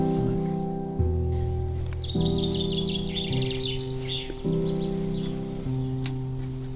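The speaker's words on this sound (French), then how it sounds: "Peut-être des chants d'oiseaux sur ton enregistrement." Birds chirp and twitter in a garden, their bright, quick calls scattered through the clip above a steady, loud bed of sustained musical chords.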